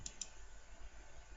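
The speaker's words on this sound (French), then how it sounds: "On clique sur exécuter." Two quick, faint computer mouse clicks near the start over low background hum, the click of the run button in LabVIEW software.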